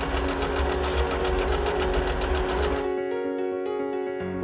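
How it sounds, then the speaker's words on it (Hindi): A Usha Janome Dream Stitch automatic zigzag sewing machine runs loudly with a rapid, even mechanical chatter, then cuts off after about three seconds, leaving a fading hum and a few small clicks. "ये एक ऑटोमेटिक जिगजैग सिलाई मशीन है"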